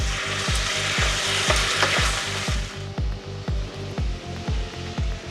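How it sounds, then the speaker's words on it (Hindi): Roughly chopped tomatoes fry loudly in oil in a pan while veg pulao is cooked. The sizzle is close and steady, and regular stirring scrapes repeat about every half second. "अब मैं इसमें 3 रफली कटे हुए टमाटर डालूंगी। और इनको भी भून लूंगी।"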